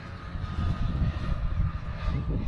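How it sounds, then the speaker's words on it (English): A black Kawasaki motorbike passing on a rural road in Northumberland, a low engine rumble holding steady at moderate distance throughout, with no voices. "And a lesser spotted motorbike."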